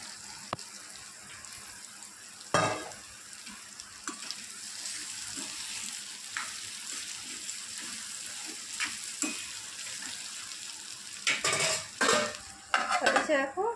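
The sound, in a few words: spiny gourd frying in oil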